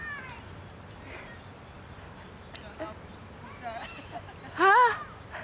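A cat gives a short, loud meow near the end, following quieter chirps and background chatter of people talking.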